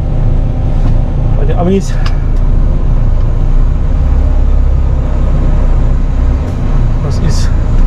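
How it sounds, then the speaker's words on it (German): An excavator's engine rumbles steadily and loudly as the machine is driven over toward Sembach, a constant low drone filling the whole stretch, with someone talking briefly over it. "Den Bagger fahre ich jetzt rüber nach Sembach"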